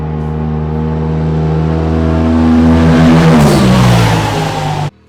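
Loud, close engine of an off-road vehicle revving hard during a short race, its pitch climbing steadily before cutting off abruptly near the end, with no voices.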